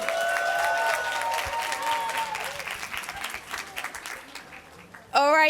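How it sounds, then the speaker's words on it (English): At a literacy symposium award ceremony, an audience applauds fourth graders with a full round of clapping that gradually thins and fades, a faint tonal ringing over the start and a sudden louder sound at the very end. "Let's give them another round of applause."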